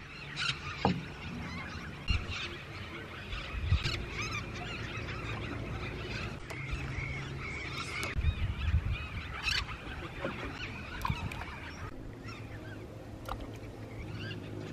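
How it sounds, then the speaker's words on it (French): A dense, noisy chorus of many parrots squawking and calling all at once at sunset, steady and loud throughout, with no voices. "les perroquets volent de partout et on entend énormément leur bruit"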